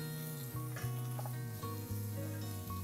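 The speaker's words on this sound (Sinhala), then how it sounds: "ටිකක් තත්ත්වයකට එනකොට රම්පෙ කරපිංච ටික දානවා අපි" Pandan and curry leaves fry in oil for a pork curry, a faint steady sizzle with small crackles, while a low, regular humming tone pulses underneath throughout.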